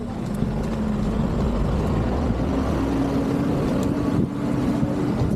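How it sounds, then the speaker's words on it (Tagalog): Many motorcycles idle and rumble through a crowded paid parking area, a steady dense engine drone with a low hum running throughout and no break in the noise. "Grabe, ang daming motor."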